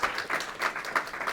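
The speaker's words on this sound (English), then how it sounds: "You can clap. That's fine." Audience applause follows a talk on game design, a brief patter of many hands clapping at moderate loudness in a hall.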